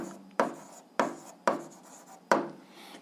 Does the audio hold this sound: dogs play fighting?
no